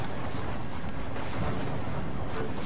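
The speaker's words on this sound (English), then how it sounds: "Sweet, there was an explosion." A loud, dense explosion from the inFAMOUS video game, a continuous blast of rumbling, crackling noise that stays heavy throughout with no voices over it.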